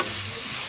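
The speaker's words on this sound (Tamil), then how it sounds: "நல்லா அந்த எண்ணெயிலேயே முருங்கைக்காயையும் கத்தரிக்காயையும் ஃப்ரை பண்ணி" Drumsticks and brinjal frying in hot oil for a brinjal drumstick kootu, a steady close sizzle with light stirring running evenly throughout, no voices.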